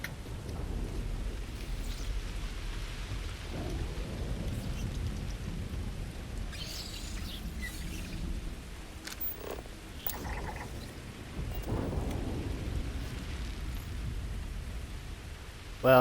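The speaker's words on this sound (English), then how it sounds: "Well, it is dreary and raining and depressing as shit out here, Andreja." Rain falls steadily in the video game Starfield, a soft continuous hiss with low rumbling thunder rolling through beneath it and a few sharper bursts, with no talking.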